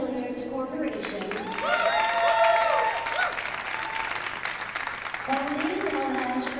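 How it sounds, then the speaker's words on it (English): A crowd at a women's world 10-ball billiards championship final applauds the award presentation dignitaries, with steady clapping and cheering mixed with voices and ringing tones in a large hall. "So, please give all of them a warm round of applause"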